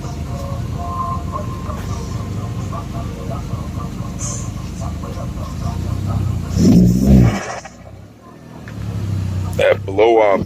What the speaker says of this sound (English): That blow-off valve though.